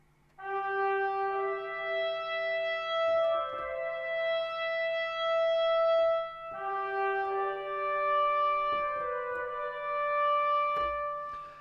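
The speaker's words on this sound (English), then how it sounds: "Let's take a legato trumpet sound, for instance. It might sound like this." A solo trumpet plays a smooth legato phrase of connected notes, bright and clear, with a short pause midway before the line continues.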